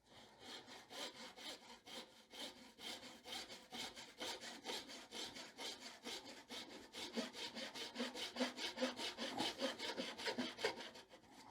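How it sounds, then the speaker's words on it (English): A hand saw cuts wood for a mortise and tenon joint in steady back-and-forth rasping strokes, about two per second, close and alone, getting a little louder and quicker toward the end. "And then I slowly cut, and with each stroke I slowly drop the saw on my side."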